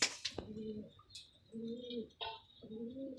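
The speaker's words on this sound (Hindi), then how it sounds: "ये हैं हमारे प्यार के कबूतर।" Pigeons coo close by in a run of soft, throaty rolling calls, each about half a second long, separated by short pauses and a few sharper chirps and rustles.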